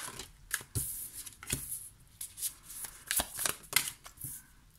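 Tarot cards are shuffled in several quick, papery riffling bursts with short pauses between them, close and fairly quiet, with no voice over them.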